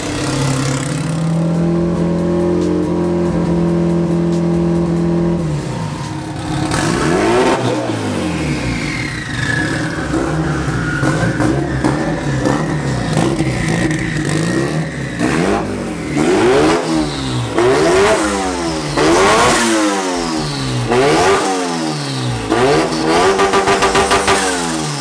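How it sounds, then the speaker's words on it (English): A big-turbo Evo car engine revs hard on one of its first start-ups, running rough. It gives loud, repeated rises and drops in pitch over a steady roar, with whooshing turbo spool sweeps throughout and no voices. "Turbo noises."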